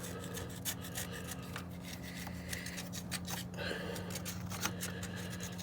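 Scraping old gasket residue off the thermostat housing of a Dodge 5.7L Hemi engine in a Chrysler 300, quiet irregular rasping strokes repeated close by over a steady low hum.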